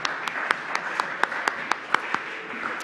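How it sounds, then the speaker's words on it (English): Applause from a church congregation during a worship service: a modest scattering of hand claps with sharp, evenly spaced peaks, steady and moderately close, with no voices over it. "why don't we thank God with a round of applause"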